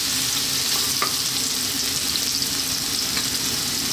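Garlic and ginger stir-frying over high heat, a dense, loud, continuous sizzle close up with faint stirring ticks and no talking.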